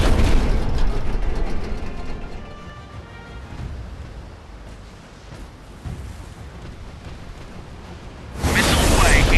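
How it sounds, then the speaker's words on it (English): A missile launches from a warship's silo in a mobile naval combat game, a loud roaring whoosh and rumbling boom that fades, then a second heavy burst of launch noise near the end. "Missile silo fire."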